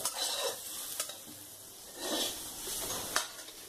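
Pointed gourd (parwal) pieces fry in oil over a medium flame, a steady close sizzle broken by a few sharp scrapes and clinks of a spatula against the pan. There is no talking.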